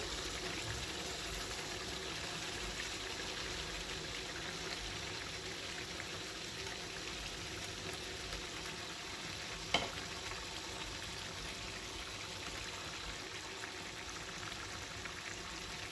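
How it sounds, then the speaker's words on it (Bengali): A fish-head and potato curry fries steadily in the pan as mashed boiled potatoes go in, with a continuous close sizzle and one brief sharp clatter partway through; no voices. "এখানে আমি আগেই 3টে আলু সিদ্ধ করে ম্যাশ করে রেখেছি, এটা এখন আমি দিয়ে দিব"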